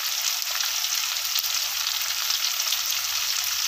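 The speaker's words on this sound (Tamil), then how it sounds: "நல்லா வதக்கிடணும் ரசத்துக்கு" Spices and dried red chillies sizzle and crackle steadily in hot oil in a pan as rasam is prepared, with a continuous close frying hiss and no talk.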